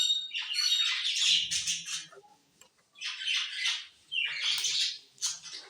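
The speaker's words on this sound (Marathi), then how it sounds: "थोडा आवाज एक असेल पक्ष्यांचा वगैरे सो पक्षी आहेत आमच्याकडे त्याच्यामुळे हा आवाज आहे" Close pet birds squawk and chirp in harsh, raspy bursts, separated by brief pauses, with no one talking.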